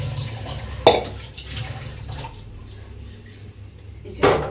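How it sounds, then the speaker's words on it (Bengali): Water sloshes and trickles in a wok (kadai) being rinsed, a close wet swirl with two sharp metallic clanks of the pan, one near the start and one at the end. "এখন একটু কড়াইটা ধুয়ে একটু পানি দিয়ে দিই"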